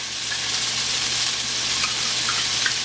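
Ginger garlic paste sizzling with browned onions in a hot pan, a dense steady crackle and hiss close up, with a few soft stirring scrapes and no voices.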